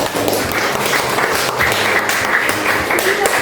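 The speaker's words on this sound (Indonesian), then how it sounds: "Tepuk tangan untuk" Classroom audience at a microteaching practice session applauds steadily and fairly loudly, a dense wash of clapping with a few faint voices underneath.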